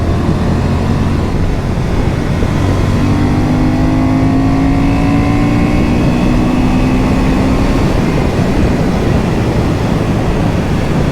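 A 2023 Honda Hornet 750 motorcycle engine pulls hard under acceleration, a loud, continuous roar with rising pitch sweeps as it climbs through the revs, heavy wind rush blended in.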